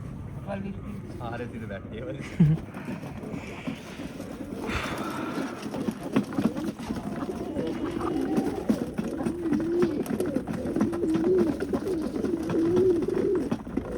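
Soft low cooing of pigeons repeating under a busy outdoor backdrop, with people talking nearby throughout.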